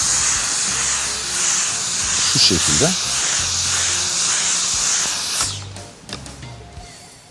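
A clothes iron releases steam onto a sweater with a steady hiss that runs for several seconds, then cuts off, while people talk over it in a studio setting.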